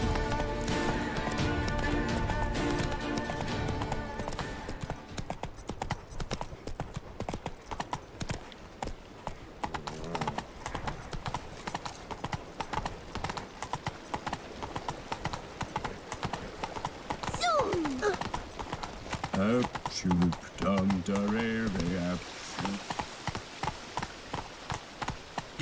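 Horse hooves clip-clop steadily through a ride in The Witcher 3: Wild Hunt's Blood and Wine expansion, set in Toussaint, with in-game voices, music and a whinny-like pitch sweep near the end.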